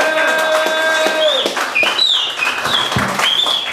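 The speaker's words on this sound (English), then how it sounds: "Fellas, please give them a round of applause," Comedy club audience applauding women in the crowd, with dense, loud clapping mixed with whoops and whistles and cheering voices throughout.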